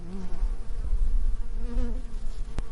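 Stingless bees buzz steadily around and inside their hive on a farm, a close, continuous droning hum with wingbeat tones rising and falling, heard alone without voices.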